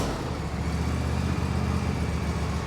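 A John Deere S170 lawn tractor engine runs at a steady, close-up idle, a continuous low mechanical drone with no pauses.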